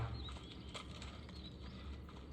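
Horse hooves in the video game Red Dead Redemption, playing on a Nintendo Switch Lite: a quiet, brisk clip-clop of a ridden horse over a soft background hum, with no voices.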